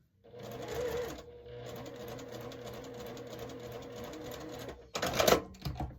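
A sewing machine runs steadily, stitching a drawn line on a quilt block seam for a pressed flowers design, with a brief start, a long even whirring run, and a louder burst near the end.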